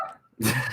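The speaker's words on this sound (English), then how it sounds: "Sorry if you hear my dog barking in the background." A dog barks once in the background, a short, sharp yelp after a moment of near silence, moderately loud in a home setting.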